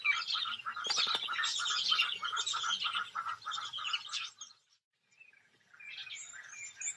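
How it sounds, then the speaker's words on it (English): Small birds chattering and chirping at a lion kill in the African savanna, a dense flurry of close calls that briefly falls silent before resuming more softly. "It's a little bird feeding party."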